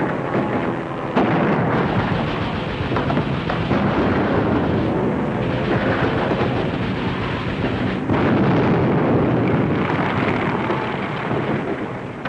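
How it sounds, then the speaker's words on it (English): Hand grenade blast inside a powder house in a 1941 war drama film, heard as a sustained loud rumbling roar with crackling debris that swells again around the middle and continues to the end. "Give me a hand grenade and stand clear."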